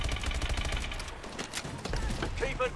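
Rapid gunfire in Call of Duty: Advanced Warfare, dense bursts of shots rattling loud and close for nearly three seconds, with a brief lull midway.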